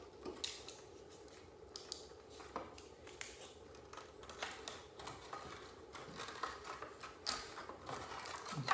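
Scissors snipping through material while building a grow light, a series of irregular crisp cuts, quiet and close, with faint handling noise between them.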